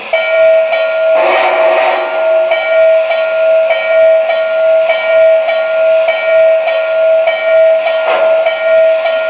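A model N&W 611 steam locomotive's sound effects: steady rhythmic chuffing while a loud, sustained whistle blows over it, with brief bursts of hissing steam.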